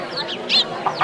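Chicken clucking at a meat shop, a few short bright clucks close by over a continuous market background, one louder burst in the middle and brief sharp calls near the end.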